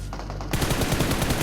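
Automatic gunfire in a video game, fired from the prone position: after a brief lead-in, a rapid, loud, evenly spaced stream of shots continues to the end.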